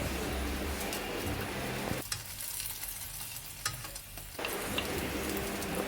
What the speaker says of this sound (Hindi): सबसे पहले मैंने पैन में ऑयल डाला था थोड़ा सा, फिर एक रोटी डाली। रोटी की एक साइड पकाएंगे